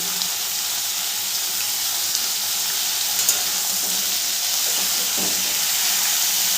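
Jackfruit pieces fry with a pinch of turmeric in a pan, giving a steady, dense sizzle and hiss that runs close and loud the whole way through, with no voices over it.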